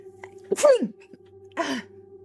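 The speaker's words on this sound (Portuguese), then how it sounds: "Vou espirrar de novo." A person sneezes sharply and close up, followed about a second later by a second, softer sneezy burst against a quiet room with a faint steady hum.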